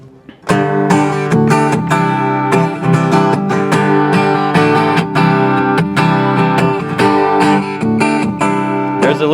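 Guitar loop played back from a looper through an amp: dense, loud, continuous strummed chords with a steady rhythm, heard close with no talking over it.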